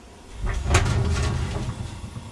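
A single solid thump of a heavy oven door swinging shut, followed by a low steady hum in a quiet room.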